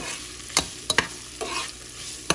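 Onions are stirred and sautéed in a pan: a steady sizzle runs underneath while a few sharp scrapes and clacks of the utensil against the pan come in quick succession, close and without talk.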